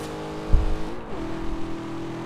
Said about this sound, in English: It's not too slow of an accelerating car, but once it hits around 70, that's where it really starts to slow the acceleration.